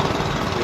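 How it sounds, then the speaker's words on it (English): Gas-powered bamboo boats with engines giving a steady, loud, droning rumble throughout, close by and with no talk over it. "passed gas-powered bamboo boats and heard the loud rumbling of the"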